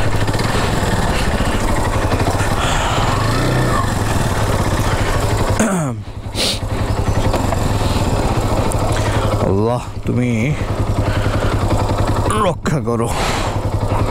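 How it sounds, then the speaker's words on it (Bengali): A motorcycle labouring up a steep slope, its engine droning loud and close throughout with brief dips in revs, while a rider speaks over it. "এদিকে একটু বেশি ঢাল, মোটরসাইকেল দুম করে টান মারবে"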